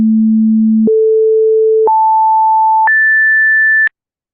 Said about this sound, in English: I just concatenate an additional tone to it